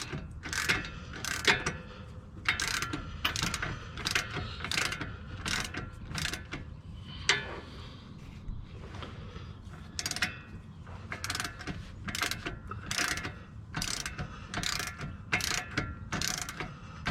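A hand ratchet tightens the bolts on a Bilstein steering stabilizer on a Jeep Wrangler Unlimited JK, giving repeated rapid clicking strokes in short even bursts, close and clear, with a brief pause midway.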